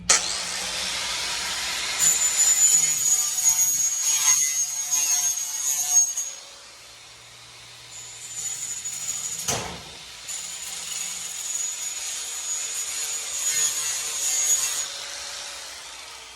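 An abrasive pad or flap wheel smooths a material edge in two long passes, a bright, steady grinding whine with a brief drop between runs and a sharp knock near the middle.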